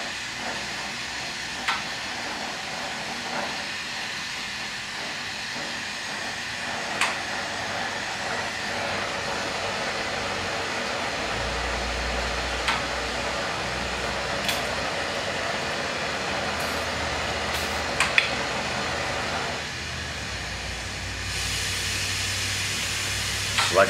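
A lampwork torch melts glass for fume pendants, a constant close roaring hiss of flame with faint scattered ticks, and a brief shift in tone toward the end; no one speaks.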